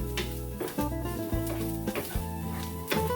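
Onions and garlic frying in a pan, a soft steady sizzle with a few clinks and stirring scrapes of a utensil against the pan, close and quiet.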